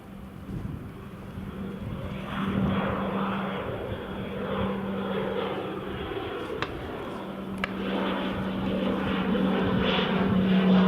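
A TBM turboprop aircraft takes off at Newcastle International Airport, a sustained propeller-engine roar with a steady droning tone that swells gradually louder, heard from a distance with no voices.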